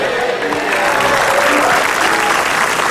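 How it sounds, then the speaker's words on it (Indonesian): Studio audience applause at a taping of the Indonesian comedy panel show Indonesia Lawak Klub: dense, steady clapping from a crowd that fills the whole moment at close, even loudness. "Ini saya nggak tahu tepuk tangannya dia tuh dari mana nih."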